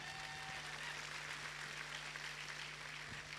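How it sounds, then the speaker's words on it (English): Faint, distant crowd applause for the referees at a Scottish strongman competition in Grangemouth, a continuous even patter of many hands carrying across an open space with a low steady hum beneath. "Give them a round of applause, folks."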